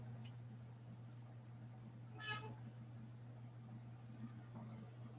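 A cat gives a single short meow midway through a quiet indoor room lit by bright lights, faint against a steady electrical hum.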